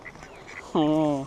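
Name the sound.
ducks quacking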